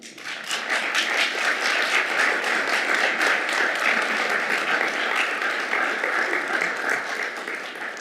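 Audience applause in a large room at an international government summit roundtable, a sustained dense wash of clapping that swells in and holds steady before easing slightly at the end.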